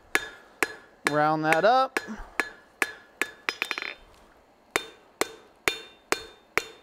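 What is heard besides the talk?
hammer planishing forged metal on anvil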